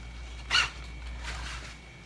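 A zipper on the side of a pair of leather shorts gives one brief, close zip, followed by faint rustling of the material in a quiet room.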